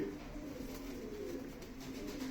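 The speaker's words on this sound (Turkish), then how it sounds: "Evet bunlar Ermeni zinciri arkadaşlar" Armenian chain pigeons cooing softly and steadily, a low murmur that runs on without a break through a faint, even background hiss.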